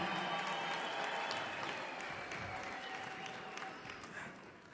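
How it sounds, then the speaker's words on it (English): A church congregation claps for the pastor's wife, a sustained even round of applause heard faintly and at a distance, gradually thinning out. "Clap for her."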